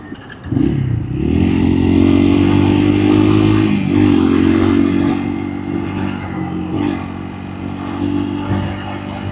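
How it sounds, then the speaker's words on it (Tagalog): A motorcycle engine hums steadily up close, its pitch rising and falling as the bike rides along a muddy trail, with rattling and clatter over rough ground. "kasama pa rin natin yung motor natin."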